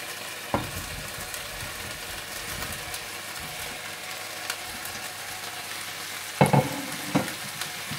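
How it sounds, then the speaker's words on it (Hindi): Chicken pieces sizzle and are stirred in a pan of yogurt masala for chicken 65. A continuous close frying hiss is broken by a few louder scraping knocks of a spoon near the end, with no voices. "और जब दही का पानी भी खुश्क हो जाए तो आप इसमें चिकन ऐड कर दें।"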